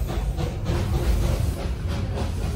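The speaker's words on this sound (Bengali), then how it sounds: "আমাদের ট্রেনটা দার্জিলিং থেকে 11:30টায় ছাড়লো, সঠিক সময়ে ছাড়লো।" The Darjeeling toy train running, a steady rolling rumble with hiss and faint rhythmic rail clatter throughout, heard from on board.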